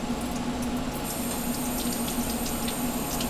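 Deionized water runs steadily from a tap during the cleaning of a rotameter, a constant close hiss and splash with a faint steady hum underneath and no talking.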